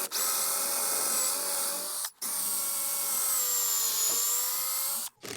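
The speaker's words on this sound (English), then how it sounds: "So I'll just take my Forstner bit, 3/4 Forstner bit, put a hole up here, and then a hole down at the bottom." A power drill spins a 3/4-inch Forstner bit into a plywood stair stringer for balustrade installation, making a steady high whine in two long continuous bursts separated by a short pause, close and loud with no talk.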